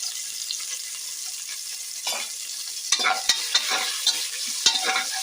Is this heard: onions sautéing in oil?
yes